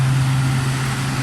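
A pump truck's engine drones steadily while pumping floodwater off a flooded road in Dubai, a constant low hum with a strong bass tone and an even, unbroken level from start to finish.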